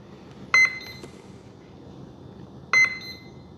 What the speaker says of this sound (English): They're beeping away, aren't they?